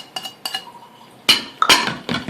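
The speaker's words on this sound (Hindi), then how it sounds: "हमने कुकर की लीड लगानी है और इसे हमें चूल्हे पे रखना है" A metal pressure cooker lid being fitted onto the pot in a home kitchen while making yakhni pulao, a series of sharp clanks and scrapes, loud and close, the last few heavier and grouped together.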